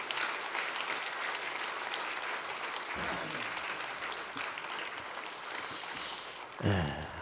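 Church congregation at a Wednesday prayer service applauds the visiting pastor, a dense steady clapping crowd sustained for several seconds before a short louder burst near the end.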